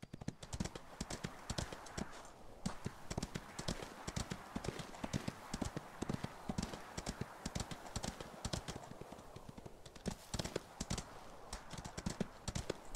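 The horse Ostwind gallops in a video game, a fast, steady clip-clop of hooves that runs unbroken and close for the whole stretch.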